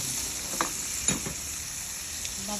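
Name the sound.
shrimp being pre-cooked and sautéed with pepper in a pan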